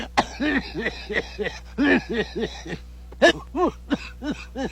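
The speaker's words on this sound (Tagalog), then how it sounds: "Inuubo ko eh" A person coughs repeatedly in a string of close, voiced, hacking bursts with short pauses between them, against a steady low background hum.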